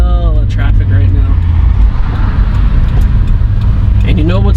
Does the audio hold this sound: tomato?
no